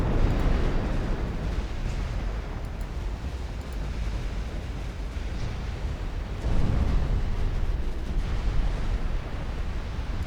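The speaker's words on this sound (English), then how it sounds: "Got a torpedo hit on something." A torpedo strikes a warship in the naval strategy game Ultimate Admiral Dreadnoughts, giving a deep rumbling blast that swells twice over a steady roar of sea and wind.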